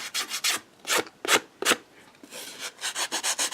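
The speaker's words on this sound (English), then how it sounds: "So we're just going to sand off any rough edges that were left behind." An emery board for artificial nails sanding rough edges off a stamped nail design: close, rhythmic rasping strokes, some long and some short, with no talk.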